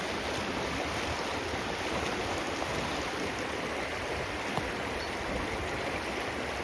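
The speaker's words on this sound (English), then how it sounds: "There we are, a little river to look at for the future." A small river stream flows steadily, a constant broadband rush of water close by with no voices, unchanging for the whole stretch.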